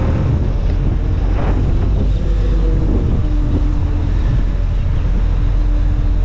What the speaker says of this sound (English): just going down, it's pretty windy